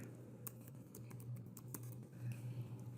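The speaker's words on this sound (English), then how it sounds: "but I can also start typing over here." Fingers tap out text on a computer keyboard in OneNote, faint uneven clicks coming in quick bursts over a constant low electrical hum, with no talk.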